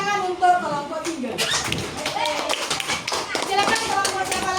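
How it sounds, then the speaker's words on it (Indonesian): Young pupils in a third-grade maths classroom clap for a group that has just presented, scattered taps and claps building after a second amid children's chatter and voices. "berikan tepuk tangan untuk kelompok 3"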